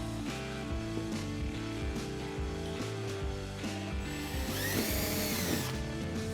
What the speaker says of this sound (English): and then drill our hole